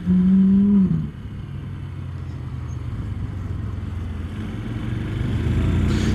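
A Honda C125 motorcycle on the road while overtaking a Ferrari: a loud droning engine tone for the first second, then a steady, fairly loud rumble of engine and wind that builds slightly toward the end, with no talking.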